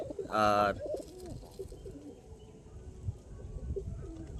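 Madras pigeons in a cage, a white male with painted feathers among them, give a short loud cooing burst near the start. Faint scattered bird sounds and rustling follow in the background.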